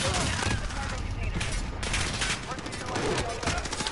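Rapid gunfire from a video game shooter match with shotguns in play, dense overlapping bursts of shots filling the whole stretch, loud and close.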